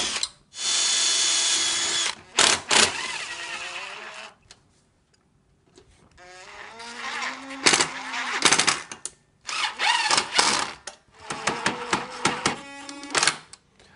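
A power drill drives screws into the bottom rail of a large Clearview garage door, whirring in several close bursts of a second or two each, separated by pauses with clicks and handling noise.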